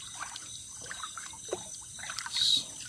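Soft trickling and small splashes of shallow water from someone wading slowly through it at night while fishing, faint and close, with a brief louder slosh near the end.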